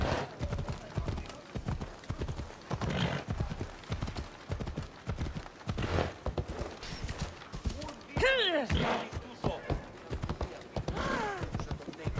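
Horse hooves clopping at a steady riding pace in Assassin's Creed Odyssey, repeated clip-clop beats mixed with game sounds and a brief whinny, under ongoing talk.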